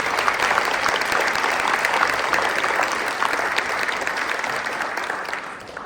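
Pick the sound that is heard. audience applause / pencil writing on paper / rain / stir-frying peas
audience applause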